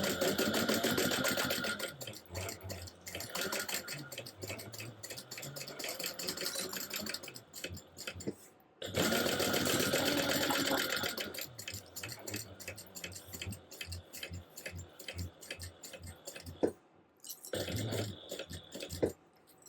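A sewing machine bastes around a fabric pocket with a fast, continuous mechanical whir and ticking stitch rhythm, pausing briefly twice before running again, close and fairly quiet with no voices.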